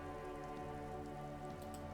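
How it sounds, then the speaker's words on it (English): Rain drips steadily off Eternite-covered roofs along an urban coastline in the video game Disco Elysium, a continuous soft patter of drops over a sustained tonal ambient hum, with a few brighter splashes standing out near the end. "rain dripping off Eternite-covered roofs"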